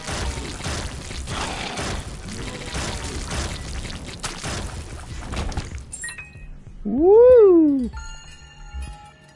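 A single cat meow from the video game The Binding of Isaac: Rebirth, one rising-and-falling cry that comes through loud and clear after a stretch of busy, dense game noise.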